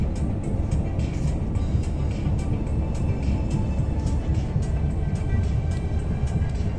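A vehicle drives along the road toward Ashford customs, its steady engine and tyre roar continuous and fairly loud throughout, with no voices.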